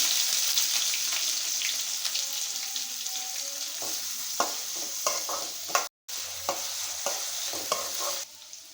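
Sliced garlic cloves and chopped onion fry in hot oil for a spinach fry, giving a continuous close sizzle with scattered scrapes and clinks of a stirring spoon, broken by one brief dropout near the middle.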